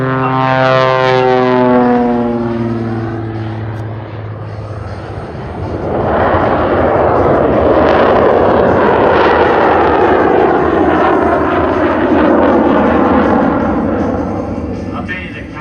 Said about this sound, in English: The big radial engine on the nose, the jet engine on the bottom has certainly changed the entire outlook of this aircraft